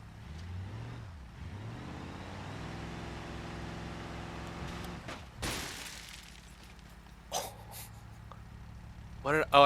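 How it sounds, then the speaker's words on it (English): Car door window glass shatters in BeamNG.drive, a brief sharp crunch followed by a few scattered tinkling breaks over a low rumbling engine in a driving game. "Oh, I broke the other door window"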